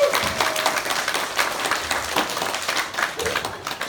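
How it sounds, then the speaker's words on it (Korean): Congregation at a church worship concert gives warm applause, a steady wash of many hands clapping close by for several seconds with brief faint voices mixed in. "우리 뜨겁게 박수 한번 넣어주세요."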